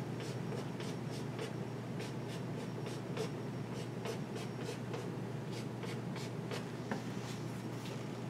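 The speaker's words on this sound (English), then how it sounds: "I'm going to write those possible outcomes, and then I'm going to write them again" Pen writing on paper while outcomes of coin flips are listed, a run of quick scratchy strokes repeating at close range over a low steady hum, with no talk.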